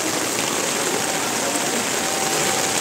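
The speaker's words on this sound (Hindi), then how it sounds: "पूरा लगातार एकदम मूसलाधार बारिश।" Heavy monsoon-style rain pours down in Prayagraj, India, in a dense, steady hiss, with drain water rushing nearby, unbroken and loud throughout.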